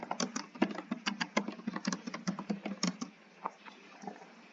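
Rapid, steady typing of code on a computer keyboard, close and fairly quiet, with dense key taps that thin out toward the end, no voices.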